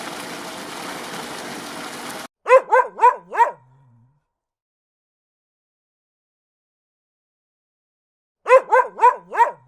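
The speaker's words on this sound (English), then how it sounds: "Dog." A dog barks in two quick bursts of about four sharp barks each, close and clear, separated by several seconds of silence and preceded by a stretch of hiss.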